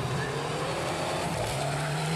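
A rally car at the 2015 Piñas rally in Ecuador passes the crowd, engine roaring loud and close with a rising, sweeping pitch and tire noise, a brief intense pass with no talk over it.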